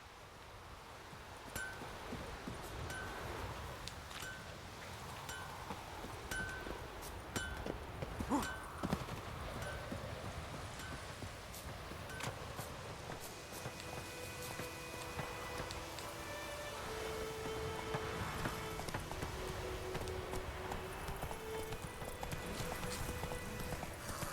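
Roach, Geralt's horse in The Witcher 3 on PS4, gallops with steady clip-clopping hooves through rustling outdoor ambience and light wind, close and continuous, with occasional louder footfalls.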